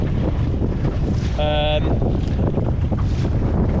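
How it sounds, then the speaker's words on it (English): Strong wind gusting across a lake while sailing a lugger, a loud, steady roar buffeting the microphone with a brief whistling tone partway through. "The wind down the bottom of the lake here is really grumpy."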